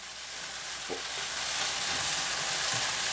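Beef frying in a pan as filling for steak and Guinness pies gives a steady, broad sizzle throughout, with a few soft stirring knocks.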